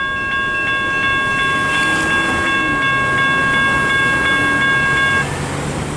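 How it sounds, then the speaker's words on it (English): A loud, sustained train horn blares in a long unbroken chord for about five seconds, then cuts off, leaving rumbling rail noise underneath. "Is that the train horn, the horn?"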